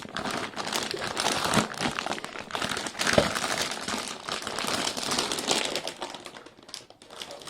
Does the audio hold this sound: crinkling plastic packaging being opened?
yes